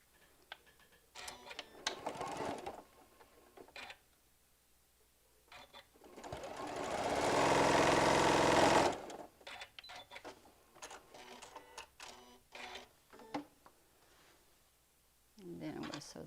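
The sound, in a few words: sewing machine stitching quilt pieces together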